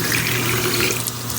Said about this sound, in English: We're gonna rinse. And really get in there.